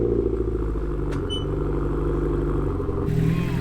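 A Nissan Pulsar GTI-R with its four-wheel-drive SR20 engine idling and running close by, a steady low throbbing rumble with a slight shift near the end.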